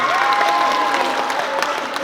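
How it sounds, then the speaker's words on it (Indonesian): Steady applause from a seated audience at a campus motivational event, dense and continuous clapping with a faint whistle-like tone running under it throughout. "tepuk tangan"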